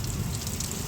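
A heavy rain shower pours down in a dense, continuous roar of drops close by, with no voices over it.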